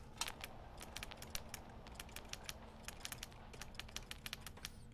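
Soft keyboard typing from a Doki Doki mod: a quick, steady run of light key clicks, faint and close, with no voices.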